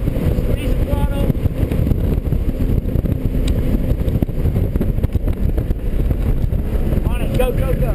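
A car engine accelerating hard on the Laguna Seca race track during a high-performance driving event, droning loudly under heavy wind buffeting from inside the car.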